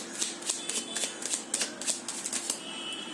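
A deck of playing cards riffled and shuffled by hand, giving a run of quick crisp flutters and slaps close by, with brief pauses between bursts.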